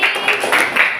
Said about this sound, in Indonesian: Coba tepuk tangannya.